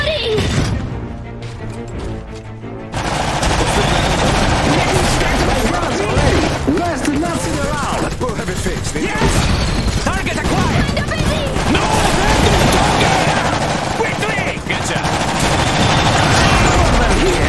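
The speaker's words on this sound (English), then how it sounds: "They're shooting!" Dense, rapid gunfire rattles through a battle in the Iron Harvest video game, breaking out loudly after a brief quieter opening and continuing with sharp repeated shots and crashes, while voices speak over the fighting.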